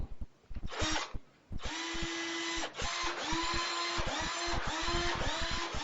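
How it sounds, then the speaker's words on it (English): A power drill whirs nearby in repeated bursts, the motor revving up and down with short pauses and rattling clicks between runs. "Mate, could you pass me that drill?"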